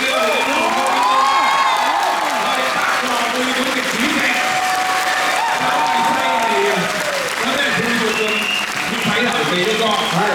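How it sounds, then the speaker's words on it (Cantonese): Theatre audience applauding at a Cantonese opera curtain call: a dense, sustained wash of clapping mixed with crowd voices and cheers, continuing steadily for the whole stretch. "我哋點可以唔可以俾熱烈嘅掌聲俾我哋？"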